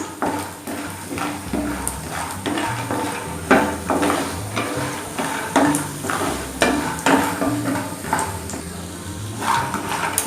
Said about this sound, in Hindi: हम मीडियम फ्लेम पे मखानों को भूनेंगे।